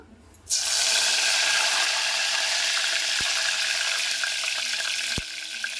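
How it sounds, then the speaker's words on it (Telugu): Mint leaves drop into hot oil in a pressure cooker, setting off a sudden loud, close sizzle that holds steady for several seconds, with a couple of sharp clicks partway and a slight drop in intensity near the end. "ఆయిల్ వేడైంది ఇప్పుడు దాంట్లో మనం కొంచెం పుదీనా వేసుకుందామండి"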